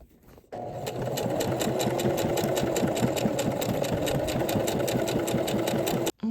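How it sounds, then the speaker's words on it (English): Sewing machine running steadily for about six seconds as it stitches straight across a crocheted purse, a loud continuous rapid mechanical whir with fast regular needle rhythm, starting and stopping abruptly. "And then we're gonna make a stitch straight across here."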